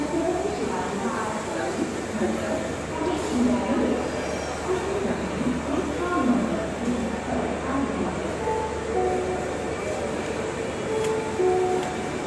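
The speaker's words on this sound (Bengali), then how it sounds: "দমদমের মতো স্টেশনের উপর দিয়ে মেট্রো যাচ্ছে" A metro train runs along an elevated track above a station like Dum Dum in Kolkata, its low rumble and rattle rolling steadily through the whole stretch, heard from nearby beneath it with faint background murmur.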